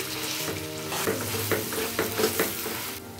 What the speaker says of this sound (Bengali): এখন কয়েত বেলটা এর মধ্যে দিয়ে দিচ্ছি। ভালোভাবে মিশিয়ে নিচ্ছি।